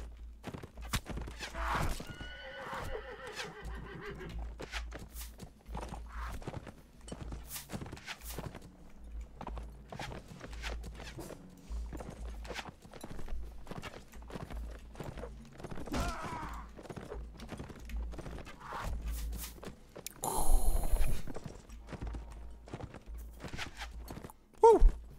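Horses move in the video game Mount and Blade Warband: repeated hoof clops and thuds in an uneven rhythm, with a brief louder grunt or whinny near the end.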